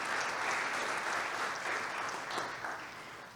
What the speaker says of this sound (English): I want to just give you a round of applause